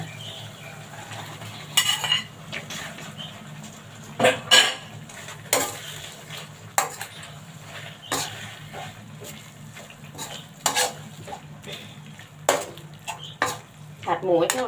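Pork being stir-fried with panang curry paste in a pan, a metal spatula clinking and scraping in irregular bursts over a quiet low sizzle.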